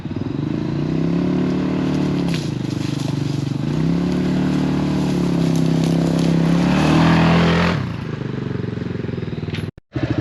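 A HammerHead 250cc go-kart engine running steadily close by, a loud throbbing idle that rises and falls with small throttle changes before cutting off abruptly near the end.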